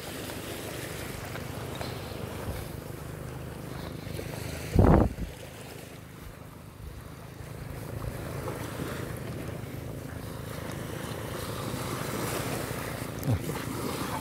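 Waves wash onto a rocky shore at Laem Son National Park in Thailand, a steady broadband surf rush mixed with wind buffeting, with one brief thump midway.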